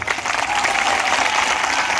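Loud, dense clapping from an audience at an MCD election 2022 campaign speech, a steady roar of hands lasting about two seconds with no talk on top.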